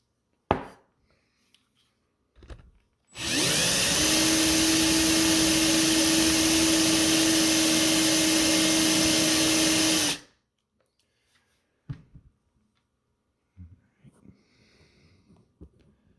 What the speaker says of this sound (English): I worked those bearings really good with the drill